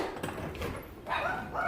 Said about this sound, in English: Loud dogs in the back.